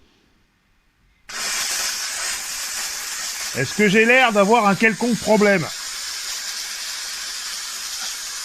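A Dupray Neat steam cleaner releases a steady, loud hiss of steam that starts abruptly and carries on throughout, while someone speaks over it partway through.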